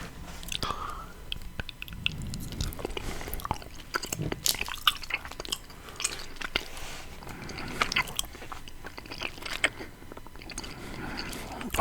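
Close, wet chewing of a chewy caramel in a quiet ASMR setting, with soft sticky smacks and squishes continuing in an irregular rhythm throughout.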